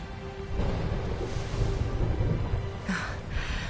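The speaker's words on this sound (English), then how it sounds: "Would you look at it thundering away out there?" Thunder rumbles through a scene in the video game Dragon Quest 11, a steady low storm roar with a brighter crack near the end, loud and without speech.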